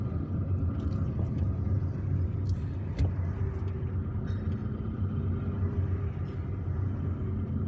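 A car rolls through slow traffic in Algiers, a low steady engine rumble and road noise heard from inside, with occasional faint clicks and knocks and no talking.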